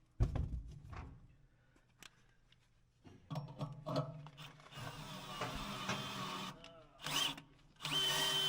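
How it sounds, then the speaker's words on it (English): A power drill bites into a welded steel bracket on a baler in short whirring bursts and longer grinding runs, with clanks and handling noise between, close and moderately loud. "We got to drill it and tap it"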